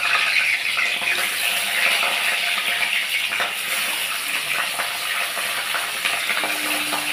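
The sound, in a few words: papda fish frying in hot mustard oil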